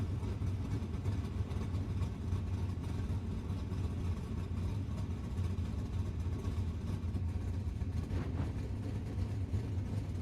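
Race cars in the iRacing video game roll at low speed, a steady, muffled low engine rumble held at an even level throughout, without speech.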